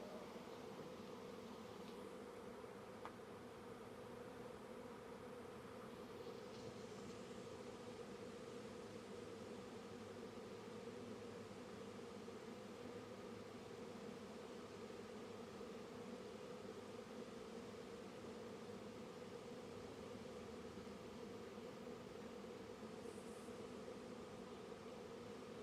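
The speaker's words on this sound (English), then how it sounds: "It was a pretty large swarm." A large honey bee swarm gives off a steady, continuous buzzing drone, faint and even, with no voices.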